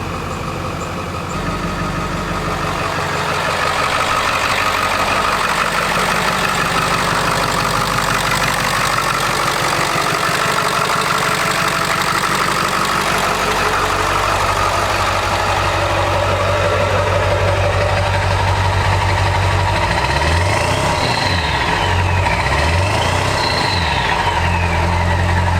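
A Ford F250 pickup with a 7.3 Power Stroke turbo diesel idling, a loud, steady low rumble with a faint turbo whine rising and falling toward the end.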